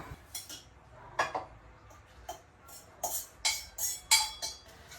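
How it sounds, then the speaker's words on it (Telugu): A spoon knocks and scrapes against a pot while stirring Maggi noodles with masala powder: irregular metallic clinks and taps, some sharp and bright, spaced through the few seconds in an otherwise quiet kitchen. "stir it up"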